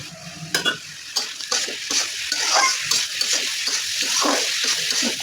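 Lentils and minced meat sauté together in a pan with a constant sizzle, broken by irregular scraping stirs and clinks of a spatula against the pan.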